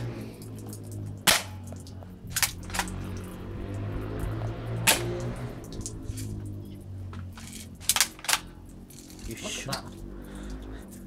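A BB gun is fired several times outdoors, with sharp snapping shots scattered irregularly, some in quick pairs, over steady background noise and people talking.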